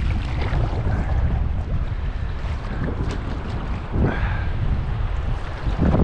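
Loud, broad rushing roar of a river's fast rapids in spring flood, constant and dense, with wind buffeting the microphone over it.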